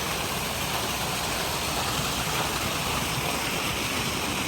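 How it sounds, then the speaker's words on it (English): A small waterfall and creek on a Grand Canyon trail produce a steady, dense rush of water with no breaks, close and fairly loud throughout. "Beautiful little waterfall"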